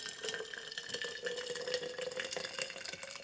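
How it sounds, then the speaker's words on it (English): Boiling water from a kettle is poured into a plastic coffee tub, giving a quiet, continuous splashing trickle of liquid with no talk. "I'm just going to pour a load of boiling water in it"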